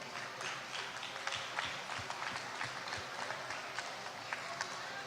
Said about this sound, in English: One more round of applause for all the Olympians